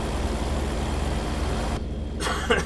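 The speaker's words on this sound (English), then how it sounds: "listen to that badass engine" A heavy truck engine in the American Truck Simulator game rumbles steadily with a low, constant drone, then the sound briefly cuts and returns near the end.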